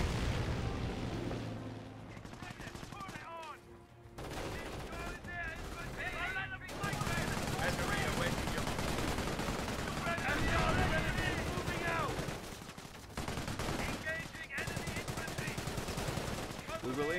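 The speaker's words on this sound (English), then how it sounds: "Taking small arms fire." Small arms gunfire in the World War II strategy game Company of Heroes at Oosterbeek, sustained rattling shots and bursts with occasional heavier booms, mixed under game voices and battle ambience.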